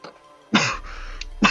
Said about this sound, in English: starts to cough.